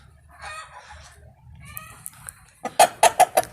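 Chickens cluck and a rooster calls in a farmyard where a drake chases a duck, beginning with soft scattered clucks and rising into a loud burst of sharp, rapid squawks close by.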